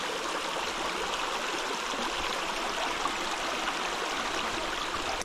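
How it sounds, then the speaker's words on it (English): A mountain stream in the North Georgia mountains flowing steadily over rocks, an even bright rushing and trickling hiss, moderately close and uninterrupted. "Looks like a fun stream to play in"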